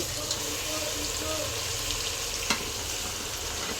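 Tomato and onion fry in a pan with a steady, close, crackling sizzle, and one brief clink around the middle.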